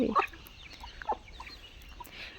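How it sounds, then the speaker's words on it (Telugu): Chickens on a home farm give a few short clucks and a brief louder call near the start, then scattered soft clucks over quiet outdoor background. "సో ఇవి కండి ప్రజెంట్గా ఉన్నాయి ఇవే కోళ్ళు అనమాట"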